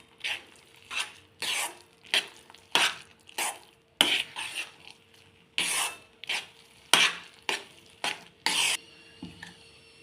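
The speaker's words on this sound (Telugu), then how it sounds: "ఇలా కలుపుతూ ఉండాలండి దగ్గర పడేంత వరకు." Rusk halwa is stirred in a pan over a low flame, its thick mixture scraped by a spoon in steady, regular strokes. Roughly a dozen close, rasping scrapes repeat about once per second, with faint sizzling beneath them.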